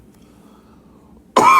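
A single loud, harsh cough bursts out abruptly at the end after a near-silent stretch.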